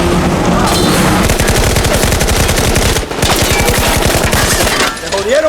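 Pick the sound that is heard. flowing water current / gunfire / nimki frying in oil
gunfire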